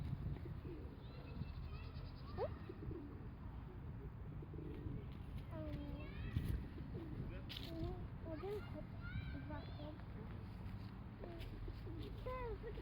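Scattered bird calls and coos, near and far, in Sknyliv Park in Lviv, over a steady murmur of people talking in the background.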